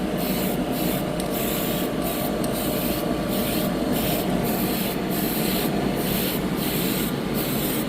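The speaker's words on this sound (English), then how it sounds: "right now I'm just priming this using the standard surface primer" Surface primer from a spray can hisses steadily and loudly at close range onto a Gundam model part, with short rhythmic breaks in the spray and no talking.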